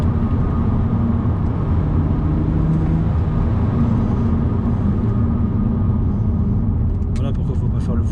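Engine of a BMW Z4 35is, driven on a road under partial throttle, gives a steady low rumble with road noise throughout, and someone talks over it.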